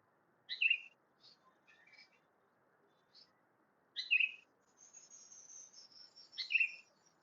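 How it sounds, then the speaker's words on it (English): Birds chirp outdoors in short, bright bursts, with a few separate clusters of calls spaced across otherwise quiet, still surroundings. "Enjoy the sound of the birds."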